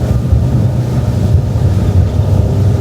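A Nimbus T11 motor boat runs flat out at about 40 knots. Close, steady wind buffeting and rushing water cover a low engine drone.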